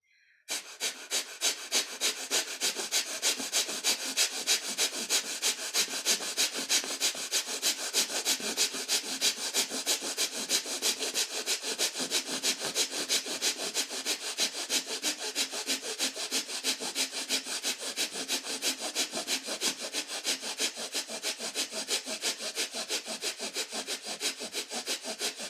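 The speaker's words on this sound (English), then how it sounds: "And Kapalabhati." Rapid, forceful nasal exhalations of Kapalabhati yogic breathing repeat in a steady fast rhythm for about twenty-five seconds, close and even, with no talk over them.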